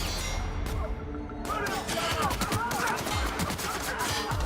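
Rapid bursts of gunfire ring out through a firefight in the sci-fi shooter The Outer Worlds, with dense cracks and impacts overlapping continuously, under voices.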